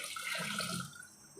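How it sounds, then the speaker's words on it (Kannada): Water is poured into Andhra-style lentil dal (pappu saaru) as a steady, moderately quiet splashing pour that tapers off after about a second, with no talking. "ನೀರು ತೆಗೆದಿದ್ದಲ್ಲ ಅದನ್ನು ಇದಕ್ಕೆ ಸುರಿಬೇಕು."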